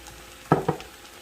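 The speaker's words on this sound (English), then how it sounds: "Stir that around a second" Chopped red bell pepper and three cloves of chopped garlic get stirred in a pot for goulash, giving two short scraping, sizzling strokes close by in an otherwise quiet kitchen.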